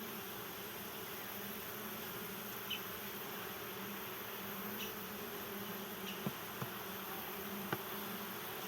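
A steady, low drone of buzzing honey bees at a nearly empty hive fills the air, with a few faint taps and clicks nearby as frames are handled.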